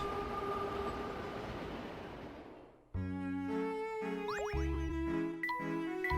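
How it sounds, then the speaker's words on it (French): A metro train in a video game gives a steady, loud rumbling ride that fades out. Bright chiming jingles and layered game music follow, with repeated tonal notes and no voices. "Nous pouvons rejoindre Flatstone Street en un éclair si nous prenons le métro"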